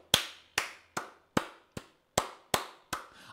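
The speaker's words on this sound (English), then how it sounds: "That's me clapping" Hand clapping: eight sharp, evenly spaced claps about half a second apart, close and crisp, with silence between them and no voices.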